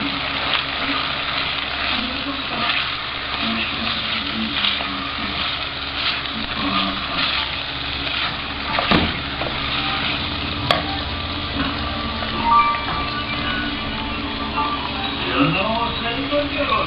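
A spoon stirs chicken in tomato sauce in a frying pan, scraping and clinking steadily over a soft continuous sizzle across the whole stretch, close and moderately loud.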